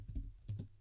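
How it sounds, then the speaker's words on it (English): Several light keystrokes on a keyboard while typing in Google Docs on iOS, coming in two quick pairs, close and fairly quiet. "I typed hi"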